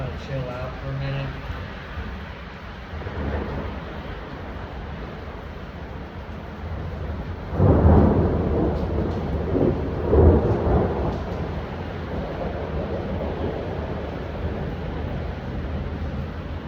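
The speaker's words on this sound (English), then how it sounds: "It's just raining away out there" Steady rain pours outside during a thunderstorm, with rumbles of thunder rolling in around the middle, and a person talks over the downpour.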